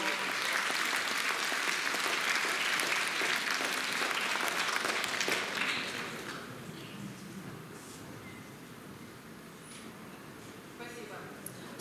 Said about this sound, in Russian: дружные аплодисменты говорят о том, что стихи замечательные